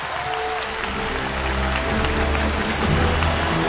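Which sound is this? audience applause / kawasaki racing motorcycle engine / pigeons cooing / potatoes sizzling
audience applause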